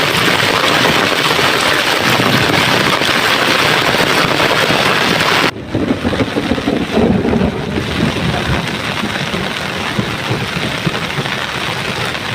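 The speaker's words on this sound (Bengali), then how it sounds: "এই যে মেঘের ফোঁটা পড়তেছে" Heavy, steady rain pours outdoors as a dense, loud wash, with a sudden break midway followed by a lower, rumbling stretch like distant thunder under the continuing downpour.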